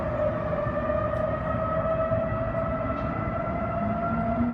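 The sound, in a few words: civil defense sirens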